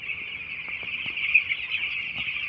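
Young chickens on a farm on a windy day, a continuous high chorus of peeping and clucking with a few short soft knocks beneath it.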